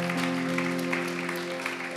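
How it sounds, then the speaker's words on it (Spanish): Congregation clapping during a church service, continuous applause layered over sustained organ or keyboard tones in a reverberant hall. "Vamos a dar un aplauso al Señor."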